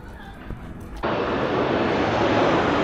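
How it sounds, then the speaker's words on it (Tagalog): An Air Canada airplane passes overhead as a loud, dense roar that begins suddenly and keeps up steadily, drowning out the quieter murmur of the outdoor scene before it. "Yun yung aeroplano guys. Air Canada."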